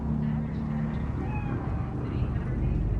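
A cat meows inside the video game Cyberpunk 2077, a few faint drawn-out mews over low background hum and game ambience.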